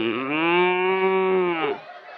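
A voice imitates a cow's long, drawn-out moo, one sustained harmonic call lasting nearly two seconds, close and loud, delivered during a religious sermon before a gathered audience.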